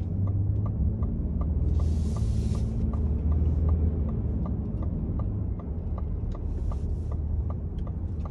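A 2021 Ford F-150 pickup truck cruising, heard from the cab as a steady low engine and road drone with an even, rapid ticking, like a turn signal, running throughout.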